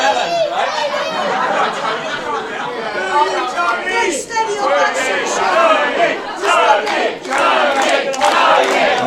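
A crowd at a live pro wrestling show yells out a mix of cheers and boos, a dense, loud wash of many voices with shouted calls rising and falling throughout.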